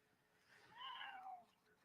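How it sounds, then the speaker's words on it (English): A house cat gives a single drawn-out meow, rising and then falling, heard faintly and a little distant in a quiet room. "I just heard a cat make a noise and go somewhere"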